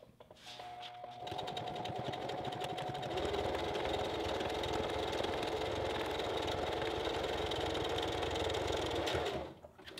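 A sewing machine stitches fabric for a costume neck seal, running in one steady motorized whir for several seconds after a brief start, then stopping near the end, with no voices.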